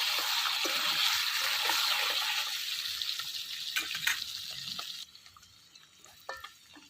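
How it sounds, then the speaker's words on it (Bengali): Animal fat frying in a pan, a steady close sizzle and crackle with bubbling spatter that softens toward the end. "চর্বিটা ভাজা হয়ে গেছে"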